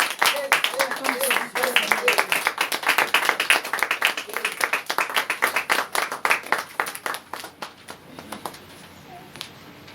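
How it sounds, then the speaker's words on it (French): A church congregation claps and cheers loudly together, a dense rhythmic burst of applause with voices over it that gradually thins out toward the end. "Est-ce qu'on peut acclamer très fort?"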